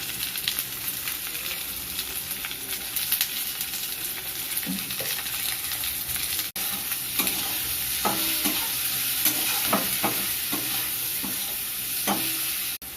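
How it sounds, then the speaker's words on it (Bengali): Onion and garlic fry in a pan for a fish curry, giving a steady close sizzle with scattered clinks and scrapes from a utensil stirring through them; no voices are heard. "দেখুন পেঁয়াজটা, রসুনটা ভালো করে ভাজা হয়ে গেছে।"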